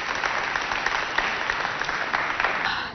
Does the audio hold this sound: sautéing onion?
no